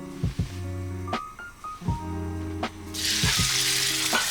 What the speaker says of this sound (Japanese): 皮目をね下にして焼いていきます